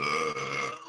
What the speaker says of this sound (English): unleashes a mighty burp